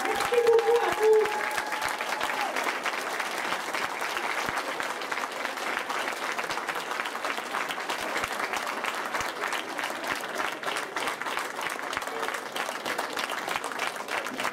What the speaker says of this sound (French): je vous demanderai tous de vous lever pour une petite main d'applaudissement pour les gens qui sont passionnés pour la motoneige